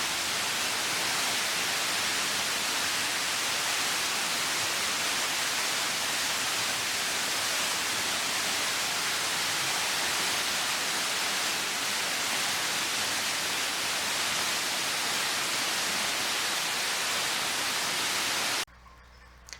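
A Tennessee waterfall pours in a continuous, loud, broadband rush of falling water, steady and unbroken for about eighteen seconds before cutting off abruptly.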